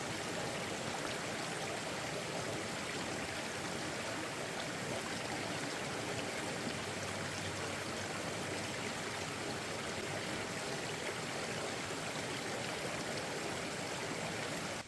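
Stream water on the Appalachian Trail in New Hampshire, a steady, close rushing and babbling flow that fills the whole stretch evenly with no voices.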